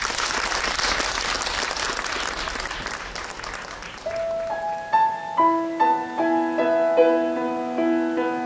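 Audience at a Korean senior lyric-writing showcase concert gives warm, sustained applause for a baritone and his accompanist, fading after about four seconds as a piano begins playing clear, ringing notes.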